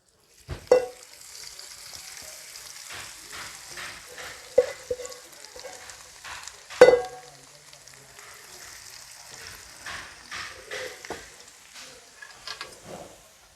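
Okra frying in a pan with coconut and green chillies: a steady, fairly quiet sizzle broken by several sharp clanks and scrapes of stirring, the loudest near the middle.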